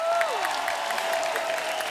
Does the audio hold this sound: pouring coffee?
no